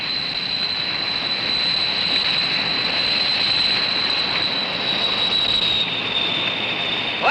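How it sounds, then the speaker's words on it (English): A jet plane engine starting up and settling into a loud, steady roar with a high whine riding on top, filling the whole stretch with no talking and no break. "We'll start up the engine."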